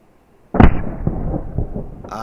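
A Texan .338 big-bore air rifle fires a long-range shot at a pest about 106 yards away, a single loud, sharp report that breaks a quiet start and trails into a rumbling echo, followed by a brief higher-pitched noise at the end.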